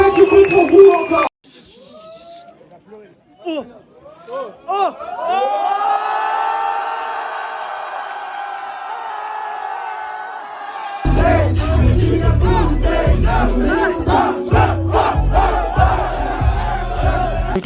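A concert crowd at La Maroquinerie shouts and cheers in a loud burst, then quieter whoops and calls give way to a sustained roar of cheering and screaming near the end.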